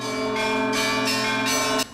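A small church bell rung by an electronic bell ringer strikes four times in quick succession. Each bright, close, metallic chime rings on and overlaps the next.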